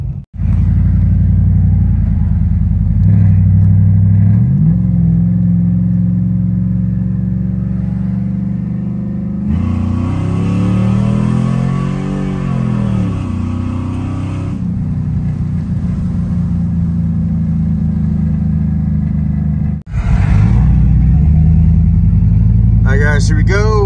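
A loud truck engine drones and revs steadily on a dyno, climbing in pitch in the middle and dropping off, then picking up again, with a constant low rumble throughout.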